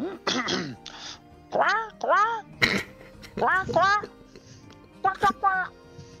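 A voice imitates a strange animal cry in a series of short, harsh, rising squawks, somewhere between a crow's caw and a duck's quack.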